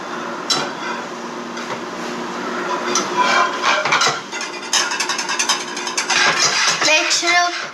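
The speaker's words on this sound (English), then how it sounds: "Make sure to whisk quickly so the salt doesn't burn." A whisk works quickly through a milk-based sauce in a pan after salt and pepper go in, giving steady, close, fairly loud metallic scraping and rapid clinking that runs without pause.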